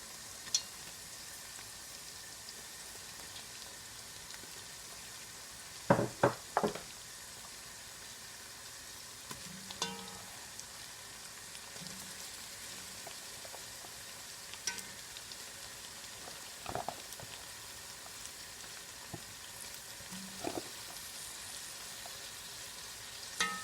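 Meat dropped into a pot of frying vegetables for Guyanese cook-up rice, a quiet steady sizzle with scattered louder clatters and stirring knocks.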